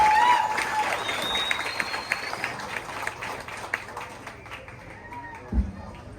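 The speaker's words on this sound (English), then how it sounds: "Give yourselves a round of applause." A crowd applauds briefly at a youth livestock show, clapping fading out over a few seconds, with some voices mixed in beneath.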